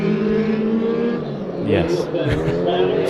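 Race car engines roar around Bakersfield Speedway during a heat race, harmonic whine rising and falling as cars pass close, with a commentator talking over the noise.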